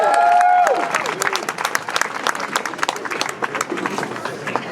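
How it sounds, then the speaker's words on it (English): An on-campus audience at a 150th homecoming celebration gives a round of clapping for returning former faculty, dense and sustained after a brief voice at the start. "So a big round of applause for all of them,"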